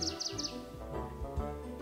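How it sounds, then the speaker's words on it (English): Small songbirds chirp and sing in a forest, a rapid run of high bright tweets at the start followed by softer calls over a steady background of music-like tones. "They stretched their wings and clicked their claws, sang and chirped the song."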